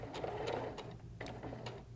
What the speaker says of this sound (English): and start sewing slowly.